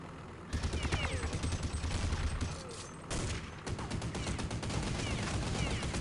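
Rapid bursts of close gunfire in Counter-Strike 1.6, loud repeated shots in dense clusters with a brief pause between volleys, and a voice talking underneath.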